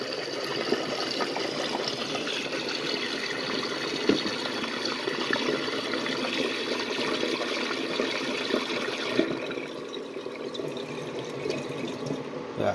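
A miniature 1994 Kohler Highcliff toilet flushes with soapy water, a steady, fairly close rush and gurgle of draining water that thins out toward the end.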